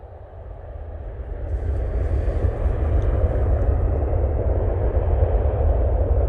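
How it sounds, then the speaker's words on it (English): A Boeing 737 jet on its takeoff roll, departing for Vienna, gives a loud, steady roar with deep low rumble that swells over the first seconds and then holds, with no voices. "737 now on the roll."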